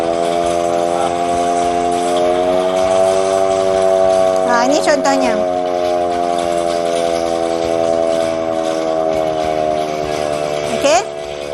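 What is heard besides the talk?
long continuous emergency warning siren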